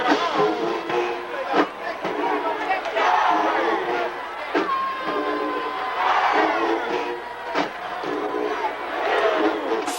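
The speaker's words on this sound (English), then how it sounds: "Why is the crowd booing?" A large stadium crowd at a Jackson State football game, playing the away side, roars and jeers across the whole stretch with dense, sustained noise and a few louder swells.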